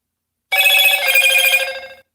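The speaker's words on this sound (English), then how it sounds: "Oh, excuse the phone." A telephone rings with a single bright, buzzing trill of about one and a half seconds, loud and close after a moment of silence, then fades out.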